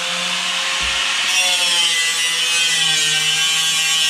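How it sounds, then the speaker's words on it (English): Grinder cutting off rusted, spinning carriage bolts on a 1928/29 Ford Model A, a loud continuous high-pitched abrasive whine with a harsh grinding rasp, steady throughout and close up. "You can see grinding more bolts."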